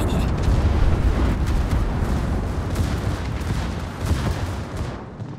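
Naval artillery from warships in World of Warships clan battle, a continuous rumbling barrage of heavy booms and blasts that stays loud throughout and tails off at the end.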